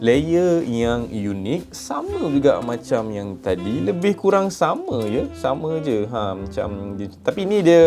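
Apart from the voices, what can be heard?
No everyday noises stand out.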